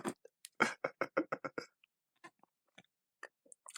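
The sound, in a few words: chewing and swallowing food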